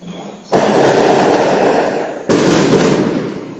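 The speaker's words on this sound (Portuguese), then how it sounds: "Soltaram até fogos." Two loud fireworks go off close by, each a sharp burst followed by a dense crackling rain of pops lasting over a second, with no talk.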